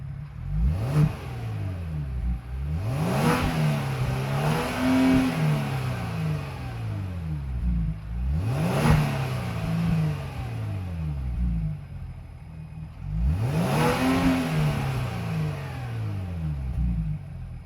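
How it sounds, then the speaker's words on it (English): The engine of a 2023 Kia Stinger GT revs hard in repeated bursts while parked, each sharp climb and fall in pitch rumbling loudly, four rev cycles spaced a few seconds apart. "let's take the Kia Stinger GT now for a drive, but before that we will hear a sound check."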